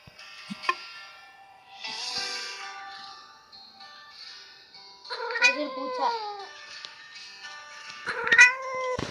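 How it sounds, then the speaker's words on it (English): A cat meows several times, drawn-out and plaintive, with brief voice-like sounds in between, fairly close and clear against a quiet background. "Oh no, I heard a meow sound."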